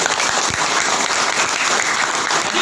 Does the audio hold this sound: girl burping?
no